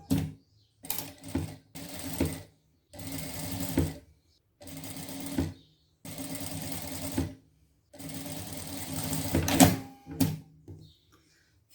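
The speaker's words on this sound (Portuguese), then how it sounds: "eu vou passar uma costura aqui prendendo elas aqui" A sewing machine stitches a seam to hold small fabric pleats for a trapeze dress, running in several loud close bursts of rapid stitching separated by brief pauses.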